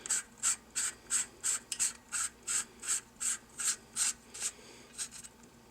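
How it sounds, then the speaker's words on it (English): Castle nut being turned on a rifle buffer tube, a regular series of about fifteen short, crisp ratcheting rasps in an even rhythm, close and fairly quiet, with no talking. "holding it there while I adjust the castle nut."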